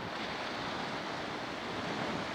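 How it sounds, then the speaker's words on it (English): Ocean waves crash over rocks along the Maine coast, a steady broadband wash of surf with some wind, moderately distant and continuous, no voices. "Just the waves are beautiful out here. Watching them crash over the rocks."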